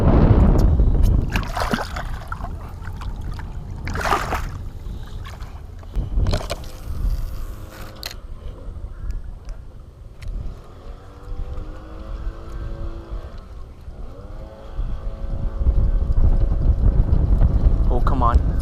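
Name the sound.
passing motorboat's wake rocking the fishing boat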